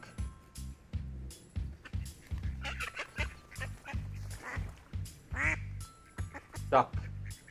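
Duck quacking repeatedly, loud and close, with honking quacks over a rhythmic low background pulse, a few sharp raspy calls standing out.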